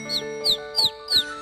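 A bird gives four evenly spaced, bright chirps, close and clear, each a quick downward-sweeping note over a faint steady hum.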